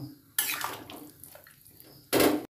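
Boiled chana dal and toor dal being stirred together in a cooking pot, giving wet, clattering scrapes of a spoon against metal in two louder bursts with quieter mixing between, no talk.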